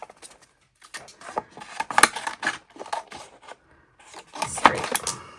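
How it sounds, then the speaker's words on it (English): Scissors cutting a fresh piece of craft transfer tape, close crisp snips and rustling of the tape backing in short bursts separated by brief pauses. "we're going to have to cut some new transfer tape, which I have here. Let's cut this down."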